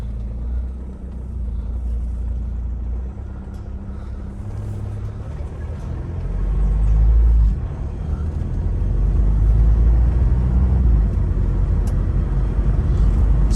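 A Citroen C-Crosser drives along a country lane, its engine a steady low rumble with road noise that rises and swells partway through, no voices over it.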